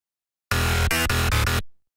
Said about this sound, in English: slightly distorted bass